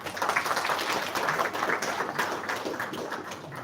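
A full room of delegates at a parliamentary plenary assembly claps together in sustained applause, with the clatter of many hands holding at a steady level throughout.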